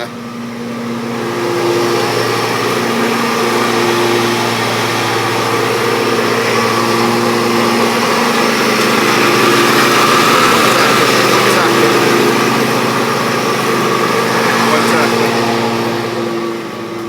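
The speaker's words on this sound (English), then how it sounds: "like a ride-on lawnmower, like a John Deere ride-on lawnmower" A John Deere ride-on lawn mower engine drones steadily at close range, a continuous mechanical rumble with a slight rise and fall in loudness.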